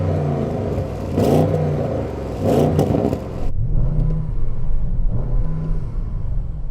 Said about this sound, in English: let's have a listen to your soft limiter